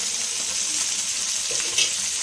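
Fish sizzles steadily on a tawa with oil over it, a continuous close frying hiss with a brief louder crackle near the end, no voices.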